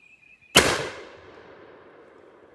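A single 16 gauge shotgun loaded with buckshot fires at an outdoor range, giving one loud, sharp boom that decays into a long rumbling echo.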